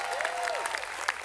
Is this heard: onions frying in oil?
no